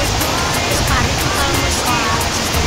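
River water rushing over a weir, a dense continuous roar close by and steady throughout, with faint voices mixed in.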